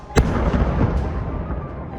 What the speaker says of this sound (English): The explosion sent a shower of debris high and wide and left a crater